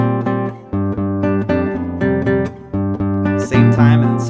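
A Halo 2 video game song played slowly on a keyboard, bass notes and higher melody notes struck together and separately in a steady, deliberate rhythm, clear and close with no talking.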